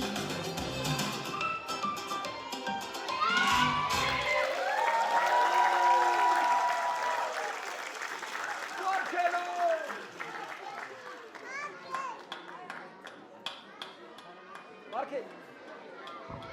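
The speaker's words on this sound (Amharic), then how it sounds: "ሞቅ ያለ ጭብጨባ ለልጆቻችን።" Applause from the audience at a kindergarten graduation: clapping builds and fills the first half, then thins into scattered claps among crowd chatter and children's voices, with people talking over it.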